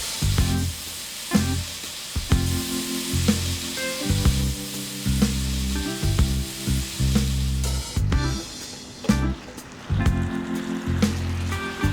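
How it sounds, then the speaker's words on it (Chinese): Stir-fried pork juices poured into a hot wok of vermicelli, giving a loud, close sizzle that surges and fades in repeated bursts as the noodles are tossed, with no talk. "粉条怕糊锅，把刚才炒肉丝的汤汁淋进锅里"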